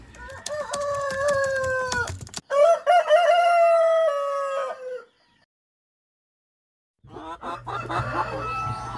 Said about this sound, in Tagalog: ito po yung ating mga parent stock po ng ating mga pure na Rhode Island Red na bamboo line na show type